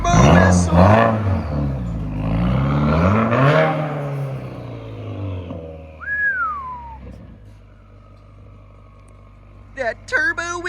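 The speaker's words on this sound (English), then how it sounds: "That turbo whistle." A car engine revs up and down, then a high, thin turbo whistle rises and falls briefly before a sharp whoosh and engine bursts at the end.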